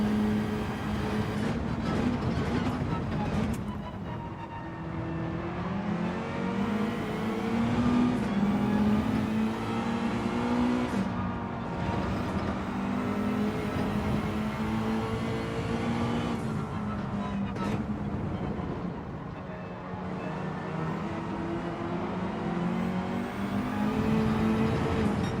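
A McLaren race car engine in Gran Turismo 7 drones and revs steadily with rising and falling gear pulls, loud and continuous, while following another car down the track.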